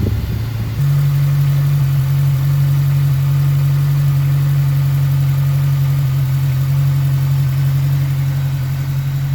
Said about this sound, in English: As soon as the engine warms up, that's when it starts to miss.